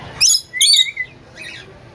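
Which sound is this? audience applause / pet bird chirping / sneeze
pet bird chirping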